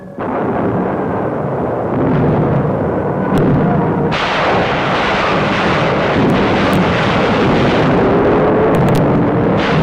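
Naval bombardment supporting the 1945 landings in the Kerama islands, heard on a newsreel soundtrack as a loud continuous roar of rumbling artillery fire and aircraft drone that swells sharply about midway, with no narration.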